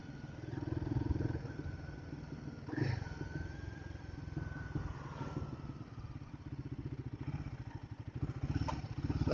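A Royal Enfield Guerrilla 450 motorcycle being ridden on B roads, its single-cylinder engine a steady low throbbing chug with gear changes and revs rising and falling, close and continuous.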